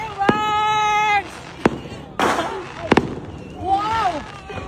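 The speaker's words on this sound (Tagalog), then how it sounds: "Fireworks!" Fireworks pop and burst at a Christmas celebration in sharp, scattered blasts, mixed with excited shouts and cheering from people nearby.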